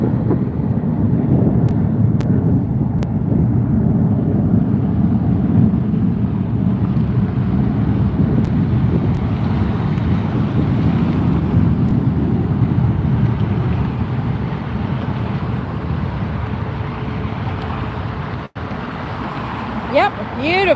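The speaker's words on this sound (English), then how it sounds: "Southwest rolling down the runway" A Southwest airliner rolls down the runway on takeoff at Las Vegas airport, giving a loud, steady engine roar with wind buffeting that holds for about twenty seconds. Faint voices speak beneath it.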